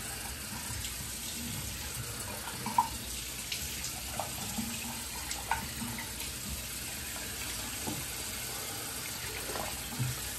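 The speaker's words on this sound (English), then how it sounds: "You just rinse off the face." Tap water runs steadily into a sink while a face is rinsed after lathering with Noble Otter Monarch shaving soap, with a continuous splashing flow and a few small clinks and splashes, no talking.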